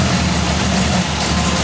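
Engine of a 1940 Ford car running steadily at idle, a loud close low rumble with constant vibration and no speech.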